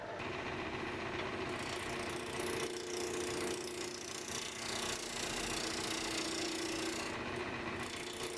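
Wood lathe turning a wooden circle tray, a continuous close scraping and rasping hum of the tool cutting the spinning workpiece, steady throughout.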